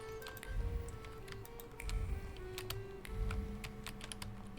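Mouse clicking while playing The Thaumaturge on a computer, a scatter of sharp, light clicks at an irregular pace, close and fairly quiet, over a low steady hum of game music.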